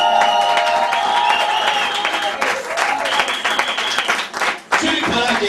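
Audience applause fills a faith gathering, a steady wash of clapping that runs throughout, with voices and tonal sound layered over it and a brief dip near the end.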